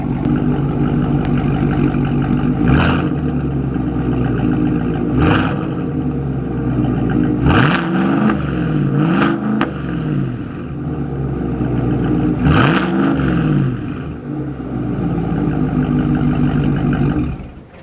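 A Chevrolet Silverado ZR2 pickup fitted with an AWE aftermarket exhaust is revved several times, loud rising and falling engine roars between steady idle, close by.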